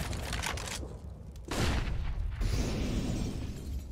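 Dense gunfire from a Counter-Strike match, with rapid overlapping shots and bursts that swell in loudness midway and keep going, loud and continuous.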